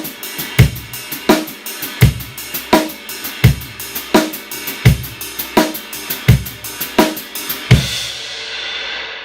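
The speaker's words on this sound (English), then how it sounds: "So you'll be playing the E and of every beat with your hi-hat foot." Hi-hat closed with the foot pedal on every offbeat sixteenth, about a dozen crisp metallic chicks at a steady, even pulse, close and dry, with the last one ringing out into a brief splashy decay.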